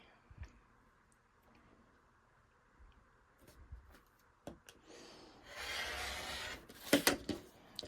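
Fabric pieces for a pinwheel quilt block being cut down the center and then turned and cut the other way, heard as scattered soft clicks and light handling noises, then a louder, sustained, close rasping stretch with a few sharp ticks near the end.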